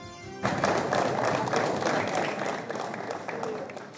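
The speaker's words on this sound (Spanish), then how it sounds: "Aplausos de parte de sus colegas para el sargento de Gendarmería Héctor Palma" Colleagues applaud Gendarmería sergeant Héctor Palma, a burst of clapping that starts abruptly and keeps up a dense, steady rhythm, fairly close.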